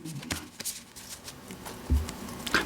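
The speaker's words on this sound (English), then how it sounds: "when I go to overhand shuffle" Tarot cards being overhand shuffled by hand, a series of soft, quick papery riffles and slaps in short uneven bursts, close and fairly quiet.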